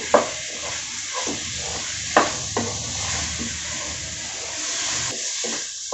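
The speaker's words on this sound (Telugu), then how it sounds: "ఇట్లా చక్కగా స్టవ్ హైలో పెట్టి వేపామంటే అదంతా బాగా పడుతుందండి ముక్కలకి" Drumstick pieces coated in salt, chili and turmeric fry over high heat in a pan, giving a steady close sizzle broken by a few sharp scraping stirs and clinks.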